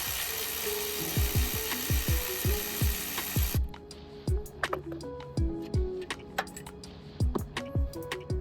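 A ratchet undoes the top alternator bolt on a 2006 Honda CR-V, a run of crisp, close clicking strokes in quick rhythmic bursts against a steady hum that drops away partway through.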